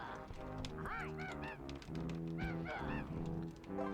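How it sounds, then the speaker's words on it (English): A Jinjo in Banjo-Tooie yelps for help, a string of squeaky, honking, pitch-bending cries repeated in quick succession over game background music. "I hear you yelping for helping."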